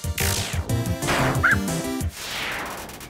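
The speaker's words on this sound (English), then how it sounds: "Oh, look, I finally found Lesser Dog!" Lesser Dog in the video game Undertale gives a run of synthesized, bright yappy barks and yips over game music, loud and close, with a short chiming blip midway.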